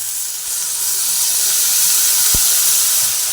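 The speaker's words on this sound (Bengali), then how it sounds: "একদম অল্প জল দিয়ে দিলাম দিয়ে আবার একটু ভালোভাবে নাড়াচাড়া করে নিচ্ছি" Water poured into a hot pan of frying drumstick flowers sets off a loud, steady steam hiss that swells and holds throughout, with a brief knock partway through.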